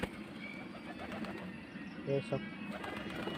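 Pigeons coo softly in brief low notes during pigeon training, faint against background noise, while a person speaks nearby.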